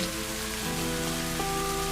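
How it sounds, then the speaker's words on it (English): Rain falling on a surface, a steady dense hiss of drops with a low tonal hum beneath, continuous and close with no talk. "as you fully embrace the rain's caress."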